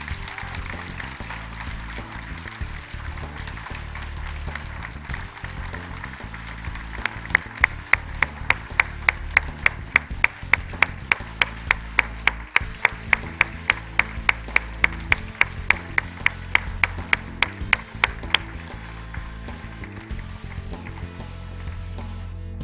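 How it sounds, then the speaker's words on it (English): Applause at an NCAA Convention honors celebration for the top 10 honorees, a sustained wash of crowd clapping under steady background noise, with a run of sharper, louder individual claps standing out through the middle. "Round of applause to our top 10 honorees."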